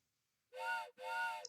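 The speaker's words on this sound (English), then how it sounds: "the train whistle that I have has an extended period of time at the end of it" A PowerPoint train whistle sound effect sounding as two bright, clean harmonic blasts in quick succession, each about a third of a second, close and alone after a short silence.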